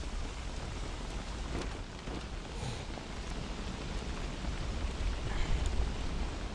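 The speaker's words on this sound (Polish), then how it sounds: "Padać zaczyna jeszcze, dajcie spokój." Steady heavy video game rain in Don't Starve Shipwrecked hisses continuously, a dense even patter with a faint low rumble underneath.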